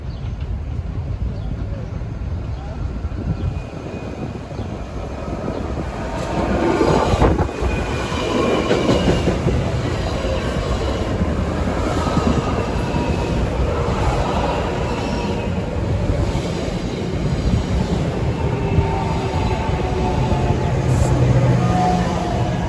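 A commuter train of Arrow multiple units rumbles past at Linden, New Jersey, on the Northeast Corridor, with rolling wheel noise and faint clicks and squeals. Its loudness swells as it passes, and a voice speaks over it.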